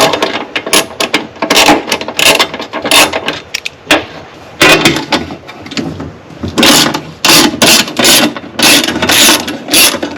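A ratchet wrench backing out 10 mm bolts while installing a backup camera, loud close clicking in quick repeated bursts with brief pauses between runs.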